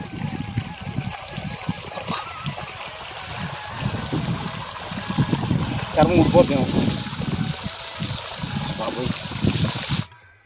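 Hot groundwater gushes up from borewells in Pagideru village, Bhadradri Kothagudem district, Telangana: a close, steady rushing and splashing flow that runs unbroken for about ten seconds before cutting off.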